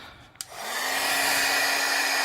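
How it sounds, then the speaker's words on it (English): A Wagner heat gun blowing hot air to strip paint, starting with a click and rising into a loud steady whooshing roar with a faint tonal whine, alone without talk. "Wagner heat gun, and this is a lot better than using a blow dryer"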